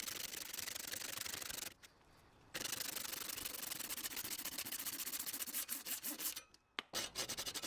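A hand saw rasps steadily through a hard coconut shell in rapid back-and-forth strokes, close up, with two brief pauses and no talking.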